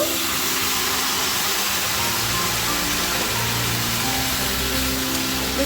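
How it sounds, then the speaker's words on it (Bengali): Boiled papaya, taro, potato and yardlong beans tipped into a hot mustard-seed spice mix for a Bengali chorchori, giving a continuous loud broadband hiss and sizzle throughout with no talking. "আগে থেকে সেদ্ধ করে রাখা সবজিটা ঢেলে দেব"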